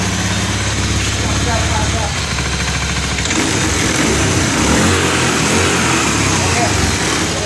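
A motorcycle engine fires up after its fuel tank was drained and cleaned, first cranking and turning over, then catching around three seconds in and settling into a steady, close idle with a rapid rumbling beat.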